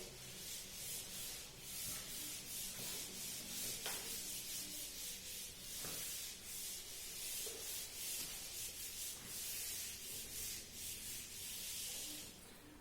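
A board eraser rubs writing off a lecture board in continuous scratchy strokes, steady and close for the whole stretch with no voices.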